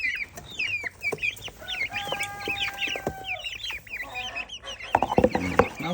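Chickens on a farm in Poland cluck and chatter in a busy, overlapping flock, close by, with scattered clucks continuing throughout.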